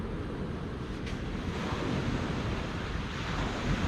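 Sea waves washing onto the beach at Spurn Point, a continuous broad rushing surf with some wind noise on the microphone, building slightly toward the end and with no voices.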